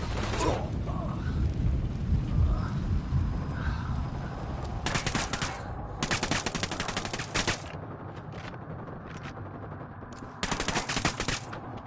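Grenade blast and bursts of automatic gunfire in the tactical shooter game Ghost Recon Wildlands, a loud rumbling explosion followed by several rapid gunfire volleys, with voices calling out over the combat.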